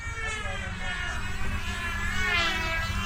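An E-Flite UMX P3 Revolution RC airplane buzzes overhead with a steady, whining electric motor and propeller drone that swells slightly as it passes in flight.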